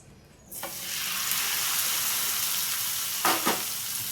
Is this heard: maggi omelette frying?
yes